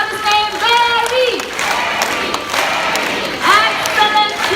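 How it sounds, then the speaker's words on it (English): A bird park show audience claps and cheers for Barry, a green-winged macaw, a loud sustained crowd roar and applause with shouted voices, while a macaw's harsh calls cut through near the start and end. "Excellent cheering."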